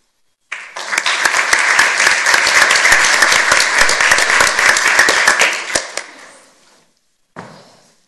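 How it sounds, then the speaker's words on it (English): Audience at a school board meeting gives a round of applause, a loud burst of many hands clapping that holds steady for several seconds, then fades out, with a brief clap resuming after a pause. "I think these young gentlemen who appeared this evening deserve an extra round of applause."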